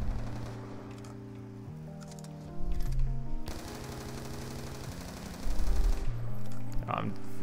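Automatic gunfire in a Call of Duty zombies game: rapid, loud bursts of shots crackle in several runs with brief gaps, with no talking.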